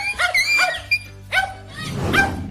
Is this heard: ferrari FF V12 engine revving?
no